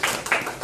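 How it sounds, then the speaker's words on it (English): A person claps their hands three times at an even, unhurried pace, each crisp, close-up clap ringing briefly, with no talking over them. "I just want to clap for her"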